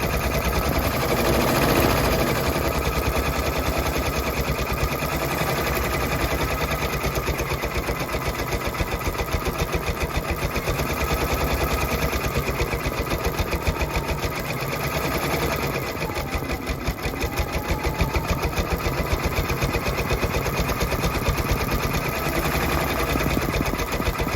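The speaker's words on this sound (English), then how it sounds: "Go ahead and stitch out, and when that's done, I'm going to show you" An embroidery machine stitches an applique design onto a shirt, a loud, close, rapid and continuous mechanical rattle that keeps an even rhythm throughout.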